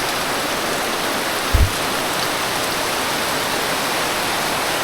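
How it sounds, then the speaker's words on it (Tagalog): Heavy rain pours down in a dense, constant roar in a rural province, with a single brief thump near the start. "mas lalo nga naman kasi yung ulan"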